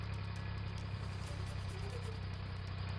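Tractor engines running on a highway during a farmers' protest near the Bahadurgarh bypass, a steady low diesel rumble and idle drone that holds throughout without pauses or talk.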